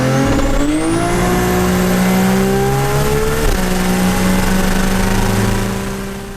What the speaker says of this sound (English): this is another video, a 1300 horsepower VL turbo we did.